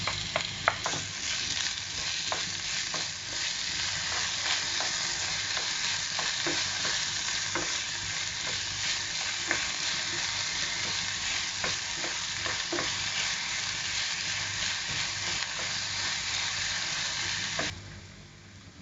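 Chopped onions sizzle steadily in a hot pan with potatoes for a Spanish omelette, with a spatula stirring and scraping in repeated close taps over a continuous frying hiss that cuts off near the end.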